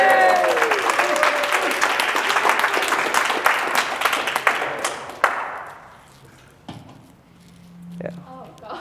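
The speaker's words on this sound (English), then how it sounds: "Everybody get a round of applause." A room of students gives a round of applause that rings out loud and dense for about five seconds, then thins to a few last claps and quiet knocks and rustles.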